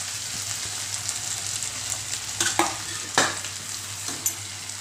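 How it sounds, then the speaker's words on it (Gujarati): Roti pieces stirred in a pan with tomatoes, oil sizzling steadily while a spoon scrapes and clinks against the pan several times, close and clear with no talking. "અહીંયા જે આપણે રોટલીના બટકા કરેલા રાખેલા એ અહીંયા આપણે ઉમેરી દઈશું."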